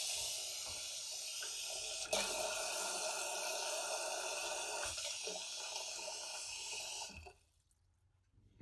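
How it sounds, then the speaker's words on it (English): Steady broadband hiss of an RV kitchen faucet running for about seven seconds, close by, then cutting off into near silence. "let's try it with the faucet head on"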